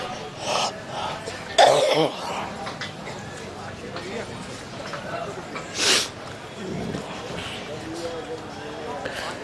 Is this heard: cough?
yes